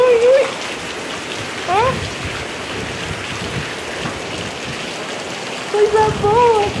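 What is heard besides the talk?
heavy rain falling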